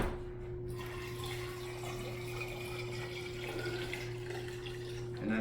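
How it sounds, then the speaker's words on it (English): Tap water runs steadily into a container for a salt brine, a soft continuous splashing stream over a low mechanical hum. "And then we'll fill this up to 6 cups with water."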